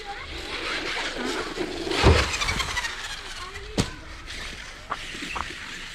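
A Losi Tenacity 1/10 scale RC car rips along fast, its electric motor whining and tyres scuffing with bumps and clatters, and a loud impact partway through.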